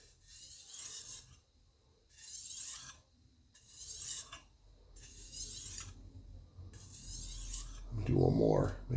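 A chef's knife drawn repeatedly across a sharpening stone, five evenly spaced rasping strokes about a second and a half apart, close and clear, with a low hum underneath and a brief muffled voice at the end.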